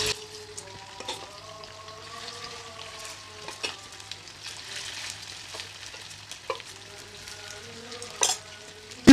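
Chicken pieces frying in hot oil in a pan for homemade shawarma, a close, steady crackling sizzle with intermittent sharper pops and spatters, no voices.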